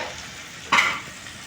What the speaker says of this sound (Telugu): చేపలు అయితే మంచిగా ఫ్రై అయిన తర్వాత గ్యాస్ బంద్ చేస్తాం.